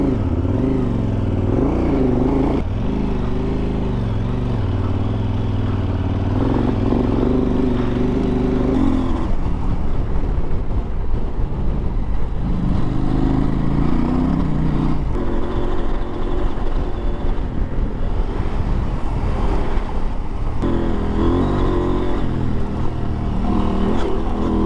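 A KTM 890 Adventure R Rally motorcycle ridden off-road, its engine droning steadily and close throughout, rising and falling with throttle changes, with a few revving surges as it works through tricky turns.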